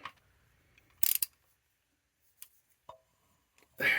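A wrench tightens a bolt on the starter of a 2005 Jeep Grand Cherokee Laredo 3.7L, giving a few faint scattered clicks and ratchet ticks with quiet gaps between them.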